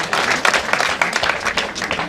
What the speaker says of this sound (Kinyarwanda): baduhaye amashyi